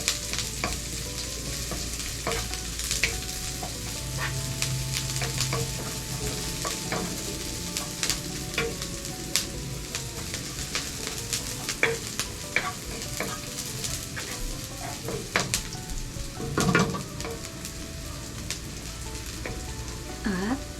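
Ingredients sauté in a little cooking oil with a continuous, loud frying sizzle, frequent spatula scrapes and stirring clatter throughout, with no talking.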